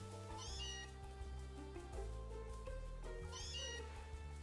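A cat meows and cries out twice, at roughly three-second spacing, with rising, wavering calls heard over steady background music or game sound.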